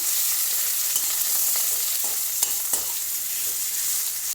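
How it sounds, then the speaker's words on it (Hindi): Cabbage stir-fried in a hot pan for band gobhi sabzi makes a loud, continuous close-up sizzle, with light scraping clicks from stirring scattered throughout. "अब इसमें हम ये कैबेज को अच्छे से थोड़ा सा भून लेंगे"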